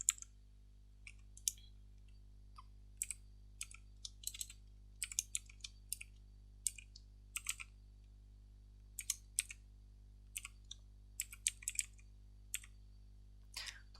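Typing on a computer keyboard to enter a letter's reference number into a records system: sparse, crisp key clicks in short irregular bursts, close and alone over a faint steady hum.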